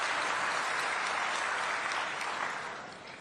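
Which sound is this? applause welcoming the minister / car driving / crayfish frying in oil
applause welcoming the minister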